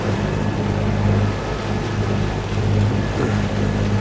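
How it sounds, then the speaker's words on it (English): A sailing catamaran motors along at just over five knots on its port engine alone, with the other propeller feathered, in light wind off the Queensland coast. The diesel hum drones steadily under the rush of water and wind, with no talking. "So we've got just one engine on, just the port engine on, and we've got the other one feathered."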